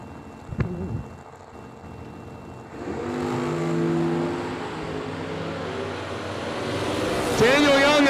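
An S10 and a wheelstanding Firebird launching at a New Year Nationals drag race, rising engine roar that builds and holds, with a high tire or engine whine near the end, heard under a track announcer's talk.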